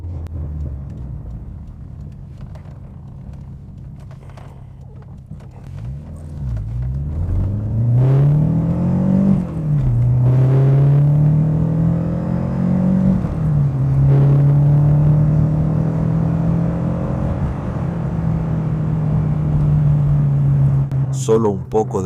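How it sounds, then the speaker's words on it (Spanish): A 1989 Renault 5 GT Turbo hot hatch accelerates through the gears, its engine note climbing, dropping at each shift and climbing again, loud and close for about twenty seconds with no talk over it. "Vamos a pasar por las marchas de nuevo."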